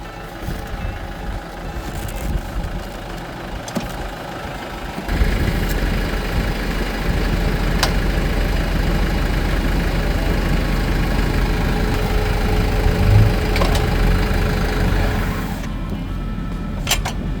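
A farm tractor engine idles loudly and steadily during bale wrapping in a hay field, a continuous low rumble that rises after a few seconds, with a brief reversing beep.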